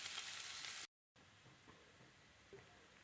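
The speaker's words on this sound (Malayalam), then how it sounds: "അത് ഇത്തിരി ഓയിൽ ഒഴിച്ചിട്ടുണ്ട്. അതിലിട്ടിട്ട് ഒന്ന് വാട്ടിയെടുക്കാം." Onions and other vegetables, with carrot, beans, cabbage and garlic, sauté in a little oil in a pan, a steady soft sizzle broken by a short silent gap, with faint stirring clicks near the end.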